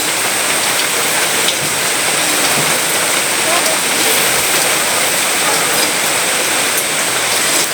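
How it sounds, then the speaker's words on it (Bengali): Goat meat with salt and spices being stir-fried in a pot for biryani, giving a dense, continuous hiss like heavy rain that stays loud and even from start to finish. "এখন আমি একটু লবণ দিয়ে দিলাম আর খুব সুন্দর করে মাংসটা এখন আমি মশলার সঙ্গে কষাতে থাকবো।"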